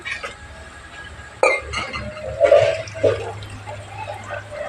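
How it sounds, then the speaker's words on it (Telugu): Water splashes and gurgles into a pot of frying tamarind mixture for rasam, with a bright burst at the start and a steady running pour after it, close and fairly loud. "ఇప్పుడైతే వాటర్ అయితే వేస్తాను"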